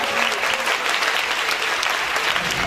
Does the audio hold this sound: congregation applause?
yes